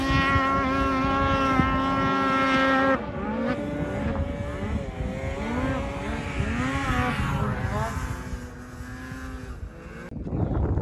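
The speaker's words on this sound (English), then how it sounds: "Today we're out here riding on this switchback assault 144." A Polaris Switchback Assault 144 snowmobile rides at speed through backcountry snow, its engine a loud, continuous drone that holds a steady pitch, then rises and falls as the throttle changes, with wind rushing over the microphone.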